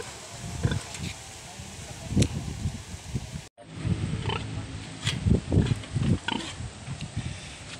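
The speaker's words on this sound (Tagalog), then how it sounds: "Laki ng mama pig na rin or inahing baboy mga idol oh." Deep, rough grunts from a large sow on a farm, repeated in bursts close by, with rustling in the background and a person talking over it.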